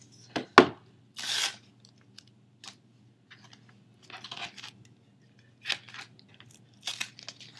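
A strip of duct tape pulled and torn for a homemade accordion coin pouch, heard as close, sharp ripping bursts and crinkly handling noises separated by quiet pauses.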